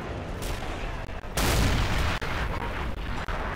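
An anti-tank gun fires in the war video game AS2. One heavy, close blast stands out over a constant roar of battle, followed by several sharp cracks.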